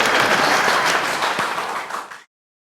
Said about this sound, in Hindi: अरे बजाओ ना तालियां